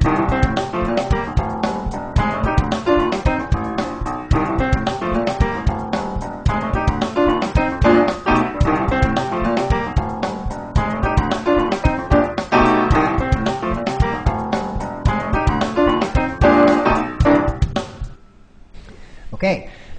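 Funk piano groove played with stab breaks that vary the rhythm, dense punchy chords struck in a busy syncopated pattern, loud and up close with no talk, stopping abruptly near the end.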